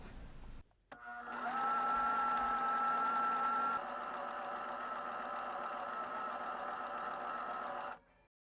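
A sewing machine runs top stitching along the neckline of a pajama top. After a brief start, its motor whirs in a steady, close hum for about seven seconds, then stops abruptly.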